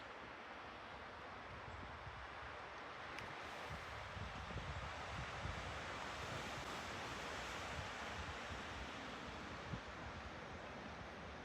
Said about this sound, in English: Strong wind like this usually means a change of weather.